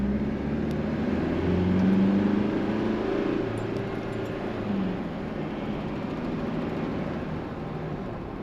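A diesel Jeep Wrangler with an automatic gearbox pulls away, its engine droning steadily with a low rumble that swells briefly, then settles into a continuous cabin hum.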